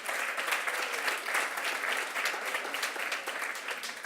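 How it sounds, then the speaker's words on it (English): An audience at a community awards event gives a steady, even round of applause, heard from a little distance and fairly soft. "so please let's have a round of applause for doing a great job"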